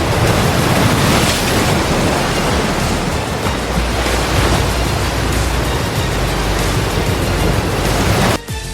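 Raging ocean waves crash in a loud, continuous churning roar of surf with heavy wind buffeting, surging several times before cutting off abruptly near the end.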